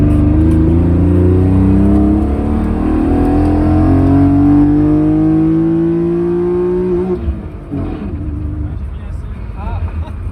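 BMW E36 fitted with individual throttle bodies revving hard at full throttle on a closed road, a loud, close engine note climbing steadily in pitch for several seconds before the lift and a shift, with rougher engine noise after.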